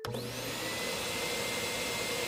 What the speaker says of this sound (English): And I came here with a vacuum cleaner?